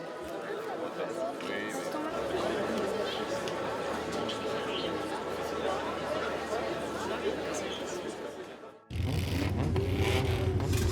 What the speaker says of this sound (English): when the road opener arrives at the Parc Gerland, the fans go wild